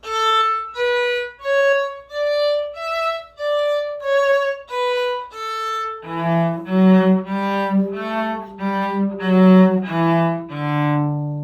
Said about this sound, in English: Détaché sounds like this.